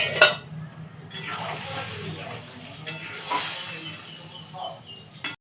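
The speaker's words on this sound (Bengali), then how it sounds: "এবার আমি জল ঢেলে দিব" Water poured into a pan of hot fried spice paste for a Bengali fish curry with aubergine and potato gives a steady hissing sizzle for several seconds, with a sharp burst near the start and clatter at the end.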